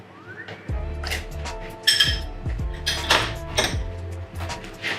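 A generous spoonful of pineapple boba goes into a glass, with several close clinks and knocks of the spoon against the glass and dish.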